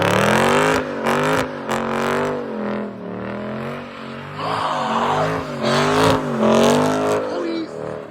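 A Dodge 392 Scat Pack sliding and spinning, its V8 engine revving in rising and falling surges with tire squeal, loud and close, while excited voices talk over it.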